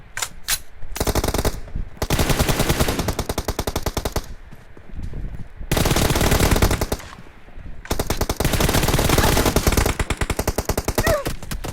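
Loud automatic gunfire in an esports shooter video game, long sustained bursts of rapid shots separated by short pauses, close and dominant with barely any speech.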